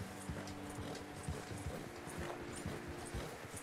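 Steady hoof clip-clop from a horse in Red Dead Redemption 2, a close, continuous walking rhythm of dull thuds that runs the whole time with faint game ambience and no talk.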